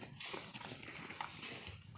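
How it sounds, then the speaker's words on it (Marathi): Hoof steps of a large bull walking on a village path, soft irregular clops close by over a steady outdoor background hum, with no voices. "किती मोठा आहे हा बैल आहे"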